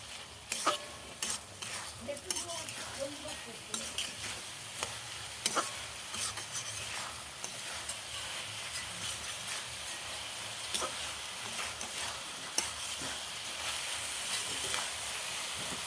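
Rice and lentils for khichuri being stir-fried in a pan, a soft continuous sizzle broken by frequent scraping and clinking strokes of a spoon or spatula, close by and without talk.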